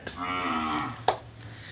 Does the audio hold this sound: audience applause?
no